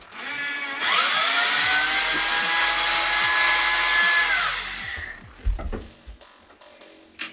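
A battery screwdriver with a nearly drained battery driving a screw while assembling furniture: a close whirring motor runs steadily for about four seconds, winds down, and is followed by a few knocks and clatter of handling.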